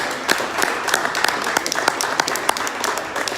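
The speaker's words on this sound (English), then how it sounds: "deserve a round of applause." A crowd at a Jack Hammer Promotions fight press conference applauds: a broad bed of clapping with distinct sharp claps standing out, moderately loud and continuous throughout.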